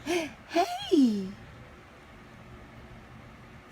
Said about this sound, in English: That was the longest yawn ever.